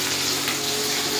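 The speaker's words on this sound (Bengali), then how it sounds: "এই যে মাছ ভাজা হচ্ছে" Pieces of katla fish fry in hot oil, a loud, close, steady sizzle with a crackling hiss and no talking.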